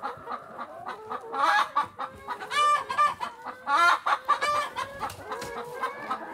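Several hens cluck and squawk busily inside a greenhouse tunnel, overlapping calls in an irregular stream, close by and fairly loud with no talking.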